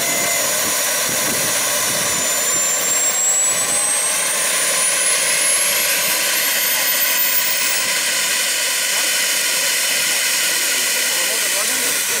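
Sustained loud hissing roar of a P-20 mini jet turbine engine running up in a model F-16, steady throughout with a rising high whine, close by.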